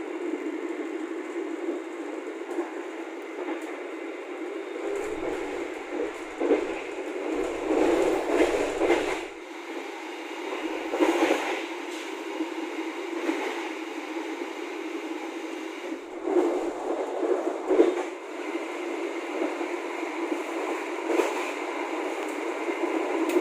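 Steady rumble and hiss inside a carriage of the Turangga express train as it runs toward Surabaya Gubeng, continuous and fairly quiet, with occasional louder clunks and swells.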